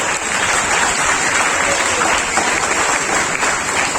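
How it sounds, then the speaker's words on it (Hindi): Loud, continuous applause from a large audience, a dense wash of clapping that holds steady throughout. "अच्छा लगा तो जोर से ताली बजाइए"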